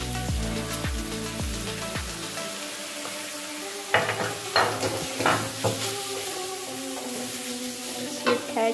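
Beef and noodles stir-fry in a hot pan for mie goreng, a steady close sizzle broken by repeated scraping and clattering stirs, with a low hum underneath at first.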